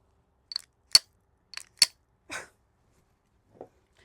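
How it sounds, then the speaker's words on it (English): Staccato XC 9mm compensated pistol firing on a range, several sharp, close shots spaced irregularly with quiet gaps between them. "now we're gonna go in with our most expensive shoot, which is our Staccato XC."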